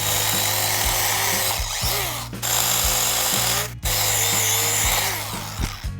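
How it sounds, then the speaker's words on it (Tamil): Wooden poles being cut to length for a tree house with a power tool, a loud continuous buzzing cut that pauses twice briefly before resuming, close and steady with no voices. "இந்த ஆரஸ்பதி கம்புலலாம் ஒரு 5 அடியை வந்து மார்க் பண்ணி அதை மட்டும் இப்போ கட் பண்ணி எடுத்துக்கலாம்"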